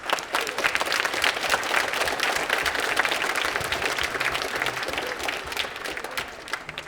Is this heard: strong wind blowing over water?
no